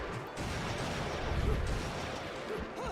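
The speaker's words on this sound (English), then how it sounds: "we can see that we have Onyx Roses, which are basically shotguns" Shotgun blasts from the Onyx Roses weapons in the action game Bayonetta, a dense, continuous barrage of loud booming gunfire and crashing impacts filling the scene without pause.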